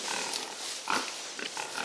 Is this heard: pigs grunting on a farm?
yes